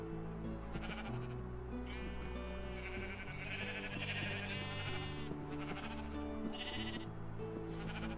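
Several sheep bleat in overlapping, drawn-out calls over a steady musical background in the farming game Township Tales, with no talking.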